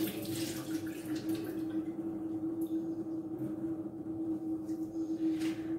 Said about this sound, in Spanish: Le tiramos este agua, la escurrimos completamente.